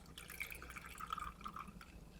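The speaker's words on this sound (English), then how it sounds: "And we are gonna pour that in your glass." A chilled cocktail pours from a shaker into a glass, a soft trickling and splashing of liquid with faint dripping, quiet and close, running continuously.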